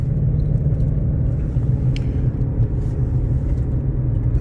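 Ford Mustang GT350 engine on the move, a steady low rumble of engine and road noise that holds even throughout, close and fairly loud, with no talk.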